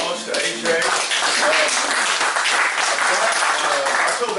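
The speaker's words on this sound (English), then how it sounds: "a good hand of applause to AJ" An audience at a meeting applauds in a loud, dense burst of clapping that holds steady for several seconds. Scattered voices and cheers mix into it.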